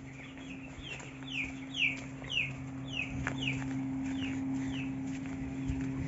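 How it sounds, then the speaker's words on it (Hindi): Chicken clucking at a Tharu village boiler farm, a series of short repeated clucks and calls at mid distance over a steady low mechanical hum, with no talking. "वीआईपी वाला मुर्गी है, एकदम वीआईपी है।"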